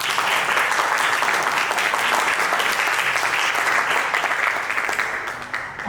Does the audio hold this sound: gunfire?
no